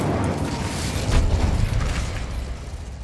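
An Incendio fire spell cast in Hogwarts Legacy produces a roaring, whooshing burst of flame with a low rumbling swell that peaks midway and slowly fades, loud and alone.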